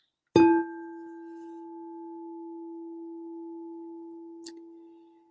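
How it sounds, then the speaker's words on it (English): A single struck crystal singing bowl rings out with a clear, pure sustained tone that slowly fades, a faint tap near the end. "here's the beautiful crystal bowl"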